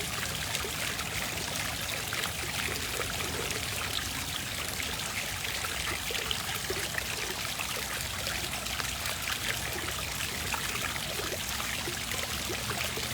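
A hose runs continuously at a big cat sanctuary, giving a steady, close hiss of rushing, splashing water that never lets up.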